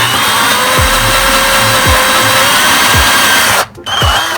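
A power drill with a wide bore bit runs continuously into a wooden board for a candle sconce, a loud close whine with a short pause near the end before it starts again.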